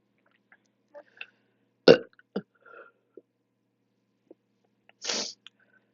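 Burps after drinking several cans of Monster energy drink: a loud belch near two seconds and another broad one near five seconds, with a few short throaty bursts in between and otherwise silence.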